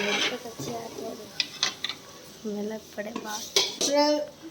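A spoon scrapes and clinks against a metal cooking pot while Maggi noodles are mixed, giving short irregular taps and scrapes close by, with a person talking over them between the knocks.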